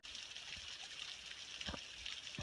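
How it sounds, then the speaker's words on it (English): Small waterfall trickling in the corner beside a wall on a mountain trail near Hot Springs, a steady close wash of splashing water running throughout. "see a wall here with a nice little waterfall in the corner"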